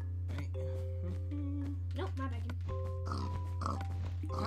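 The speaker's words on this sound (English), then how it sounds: "Pig." A pig oinks in the Minecraft video game, short grunting calls scattered among chime-like game tones over a steady hum, while people talk throughout.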